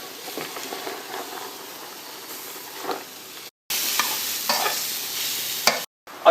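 A spoon stirring chicken curry with spinach in a pot, soft scraping and wet swishing strokes over a faint simmering sizzle, close up with no talking, broken by two brief silent gaps.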